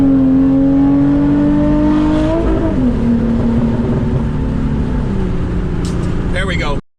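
Hyundai Genesis Coupe engine revving hard on a gear drop, a loud close roar rising and shifting pitch as gears change, sustained for several seconds before cutting off abruptly.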